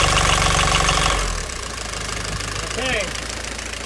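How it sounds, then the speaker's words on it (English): A sailboat's faulty port engine idles with a heavy, rhythmic knock, loud at first and then dropping lower; someone speaks briefly over the steady throb. "there's something up with the port motor, and it's got a really significant noise happening"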